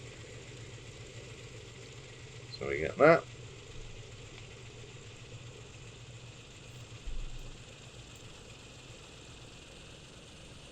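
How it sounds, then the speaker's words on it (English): A Douglas DC-6 piston engine in MSFS hums as a steady, faint mechanical drone with a couple of brief louder bursts, under a man's quiet speech. "The flight engineer is going to start the engines for me."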